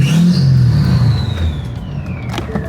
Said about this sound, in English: I'll rev it here in a second.